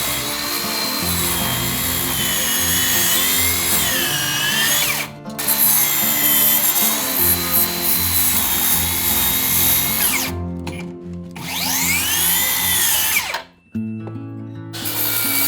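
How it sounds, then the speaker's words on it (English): A power saw cuts through a wooden stair support column for a pony wall, whining loudly and steadily in long passes with brief pauses between cuts and a short stop near the end. "I'll cut the support column since I've measured the wall height."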